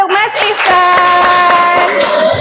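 A classroom clapping for a student, a few sharp, close handclaps in loose rhythm blended with a sustained tonal sound and a voice.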